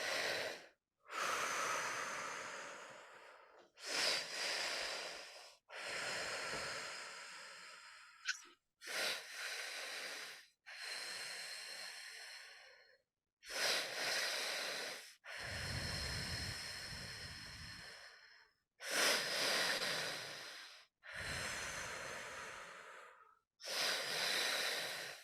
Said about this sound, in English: Another 30 seconds of the breath.